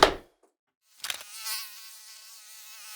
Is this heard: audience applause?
no